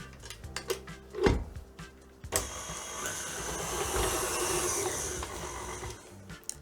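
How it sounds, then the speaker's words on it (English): A stand mixer with a dough hook kneads bread dough for a crunch loaf on slow speed; a few scattered knocks and clicks give way to a steady, moderately loud motor whir that runs on to the end. "we're going to mix that on a slow speed with a dough hook attachment on our mixer for 2 minutes"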